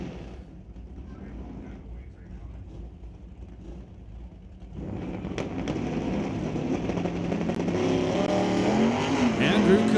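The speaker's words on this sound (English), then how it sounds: "Andrew Camello, 68 Chevelle, the stickler." At a drag strip during Saturday eliminations, including a 1968 Chevelle, car engines build from a quiet idle to a loud roar, with an announcer talking over it.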